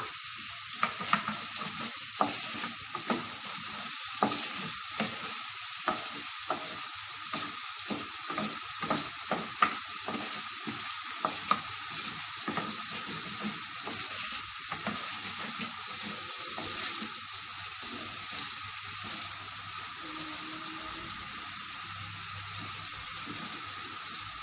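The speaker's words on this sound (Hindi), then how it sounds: "अब हम इसमें बारीक कटी हुई प्याज शामिल कर देंगे।" Finely chopped onion sizzles in a pan, a constant close hiss broken by a quick run of spatula scrapes early on, then a calmer stretch of frying with a faint trickle of water.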